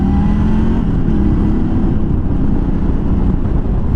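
A Ducati-engined motorcycle with an aero straight-pipe exhaust pulls under load, a loud, close, continuous engine rumble mixed with rushing wind noise, the pitch sliding down slightly early on before holding steady.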